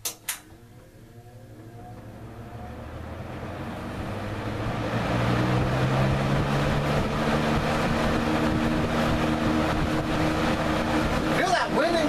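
Westinghouse AW12-1 box fan switched on to high speed, its motor hum and whooshing airflow rising over several seconds from a click to a steady, fairly loud rush, with a few knocks near the end.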